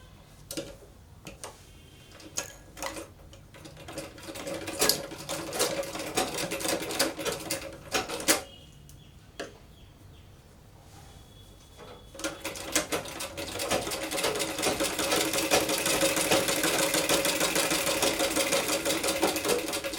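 A sewing machine stitches a folded fabric edge on a baby frock, running in bursts of rapid ticking stitches with short pauses, then settling into a steadier, louder continuous run, close and without talk.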